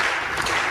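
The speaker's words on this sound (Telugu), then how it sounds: "ప్లీజ్ దీనికి క్లాప్స్ వద్దు." Audience applause at an inspirational talk event, a dense, steady burst of many hands clapping that fills the whole brief moment, loud and close, with no speech over it.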